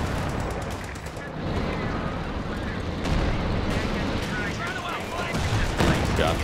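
Intense gunfire and explosions in the Company of Heroes World War II strategy game during a 4v4 battle on Hill 400, a dense continuous barrage of machine-gun bursts and blasts filling the whole stretch.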